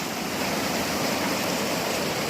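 Steady broadband roar of water pouring at the base of a small waterfall and flowing through a stream over rocky riffles, close and continuous with no voices.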